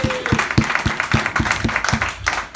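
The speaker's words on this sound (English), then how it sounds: "Clap it up" A comedy audience claps in a steady burst of even, close-packed hand claps that continues for a few seconds.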